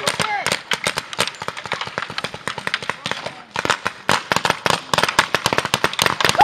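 Paintball guns fire in rapid, uneven volleys of sharp pops during an outdoor paintball game, loud and near, nearly continuous with a short lull midway, while players shout over the shots.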